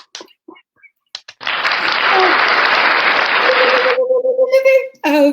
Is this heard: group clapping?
yes